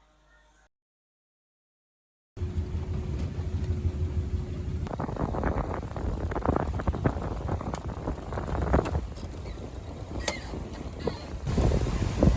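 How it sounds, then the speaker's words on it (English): Strong wind of about 17 knots roars across a sailboat under sail, a loud, gusty rush of wind noise that starts abruptly after a short stretch of near silence and carries on steadily. "Got like 17 knots wind."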